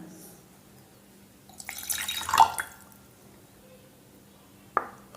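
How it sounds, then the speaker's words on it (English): Water poured out of a tumbler, a short wet splashing pour rising and fading over about a second, followed later by a single sharp drip or clink in an otherwise quiet room. "Now I am removing water from the tumbler"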